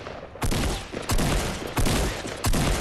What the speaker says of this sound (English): I love rapid fire with this gun.